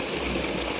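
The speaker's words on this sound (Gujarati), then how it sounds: "જબરજસ્ત પાણી આવે।" Strong water flowing into a farm field, a steady broadband rush and gurgle like a stream, close and continuous with no talk over it.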